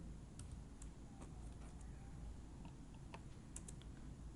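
Faint, scattered keystrokes on a computer keyboard sit under a steady low hum, irregular and distant-sounding.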